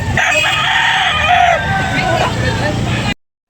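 A rooster crows loudly nearby at a Philippine rooster market, over a busy background of people talking and crowd babble, the call lasting a few seconds before cutting off.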